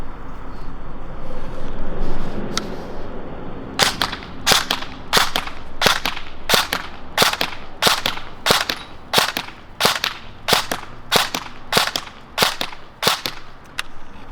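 A Krytac KRISS Vector airsoft electric rifle fires BBs outdoors in a steady string of about fifteen sharp, loud single shots, each a crisp snap at regular intervals, with no voices.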